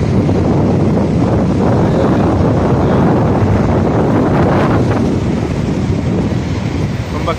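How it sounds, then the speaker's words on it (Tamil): Strong wind gusting on Sheikh Zayed Road in Dubai, buffeting the microphone as a loud, steady roar with a hint of distant traffic underneath. "ரோட்ல ரொம்ப ரொம்ப கடும் காத்து அடிக்குது"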